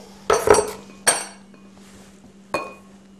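Chopped tomatoes are tipped into a bowl, giving a few sharp clinks and clatters of utensil against dish, two close together, then an isolated knock after a pause, over a faint steady hum.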